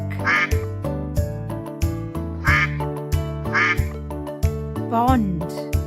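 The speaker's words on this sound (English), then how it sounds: "Ducks live in a pond." A duck quacks several times, short nasal calls repeating roughly once a second, set against a steady rhythmic music track that plays throughout.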